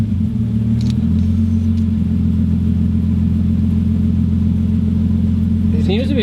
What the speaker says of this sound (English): Seems to be idling pretty smooth.